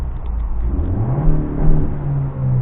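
A 2017 Honda Civic EXT 1.5 turbo with an AF Dynamic cold air intake revs in neutral, a loud close engine note rising in pitch, holding briefly, then dipping and climbing again with intake whoosh; no talk.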